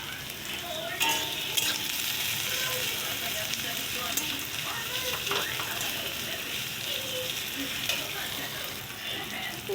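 Onions frying in a kadai, a steady broadband sizzle with occasional stirring scrapes, close and continuous throughout, with faint low background noise.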